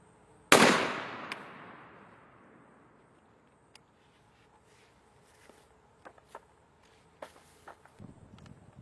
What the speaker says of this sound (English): next shot's going to be the Winchester Longbeard number 6s out of the Remington Ventilator